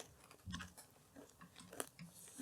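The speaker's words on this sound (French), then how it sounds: "Ça croque bien en bouche." Crunchy, fresh-tasting pastry bitten and chewed close up, a few crisp cracking bites followed by quieter rhythmic chewing, with no talking.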